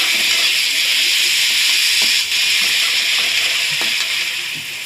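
Onion, tomato, crushed garlic and ginger stir-fried in hot oil for a Bengali pangas fish curry, a loud, dense hiss of sizzling that fills the whole stretch, with faint stirring taps underneath.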